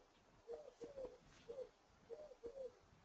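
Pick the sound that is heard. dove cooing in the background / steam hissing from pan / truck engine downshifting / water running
dove cooing in the background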